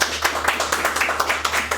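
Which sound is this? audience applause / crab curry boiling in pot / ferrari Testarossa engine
audience applause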